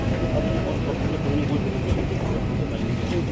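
A steady rumble and hiss from inside a moving train, continuous and fairly loud, with people talking over it.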